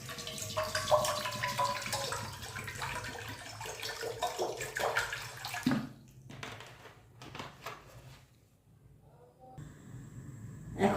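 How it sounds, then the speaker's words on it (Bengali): Water pours into a wok sitting on a gas stove, a splashing stream that tapers off into a few drips and small clinks. "কড়াই বসাই দিয়েছি। দিয়ে দেব পরিমাণ মতন পানি"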